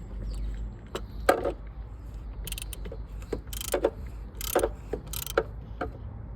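Ratchet clicking as a 24mm oil drain bolt is tightened back into the oil pan of a 2015 Dodge Grand Caravan, with several bursts of close, rapid metallic clicks separated by short pauses, no talking.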